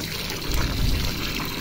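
Water pours and splashes over raw chicken as it is washed clean: a brief, loud, steady gush of running liquid with no talking.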